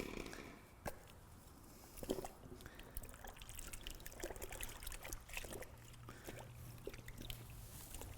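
Car shampoo trickles into a wash bucket of clean warm water, a soft close pour and dribble running steadily with small splashes.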